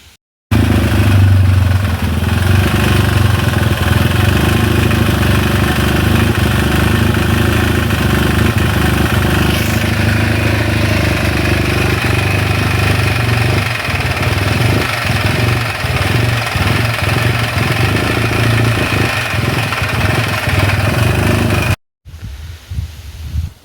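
A supercharged Fiat 500 engine cranks, catches and runs loudly and steadily close by, with a rough, stumbling patch late on before it cuts out and a brief quieter sound follows.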